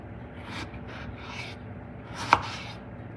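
A knife slices through a large, mild onion on a cutting board with a few soft, close cuts and one sharper chop near the end, with no talking.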